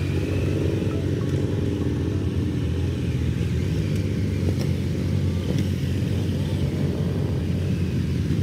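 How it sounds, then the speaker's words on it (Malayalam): A group of motorbikes rides along a road on a tour in Malaysia, a continuous loud engine rumble that stays steady and close throughout, with no speech. "വഴിയിൽ വെച്ച് ഒരു കൂട്ടം ബൈക്ക് യാത്രികരെ കണ്ടു."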